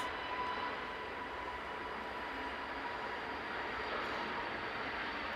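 A Pegasus airliner departing Manchester Airport, heard as a steady, distant jet engine roar that holds at an even, fairly faint level throughout with no voices.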